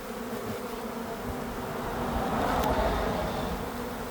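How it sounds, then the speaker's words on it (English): Honey bees that survived the winter drone in a steady, dense buzz around their hive, close and moderately quiet, swelling slightly midway with no one talking. "it's really awesome too to see that this many bees did make it through the winter"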